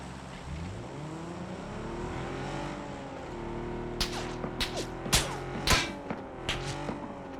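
A car engine drives steadily in PUBG, its hum rising and falling in pitch as it moves, with a run of sharp cracks and impacts breaking in during the second half.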